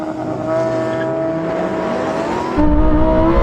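A Lamborghini Huracan STO launches at full throttle from a standstill, its engine note rising loudly and steadily in pitch, then dropping briefly as it shifts up before climbing again, heard close and alone.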